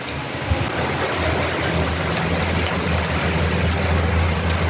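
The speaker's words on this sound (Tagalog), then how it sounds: "Ayan po, malakas ang ulan." Dense, steady roar of heavy rain with gusting wind from Typhoon Uwan and a low rumble underneath, continuous and loud throughout.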